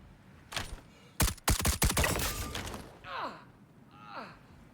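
Rapid semi-automatic gunfire in the Star Citizen first-person shooter, a burst of sharp close shots in quick succession followed by a couple of fainter whooshing, sweeping effects, with no one speaking.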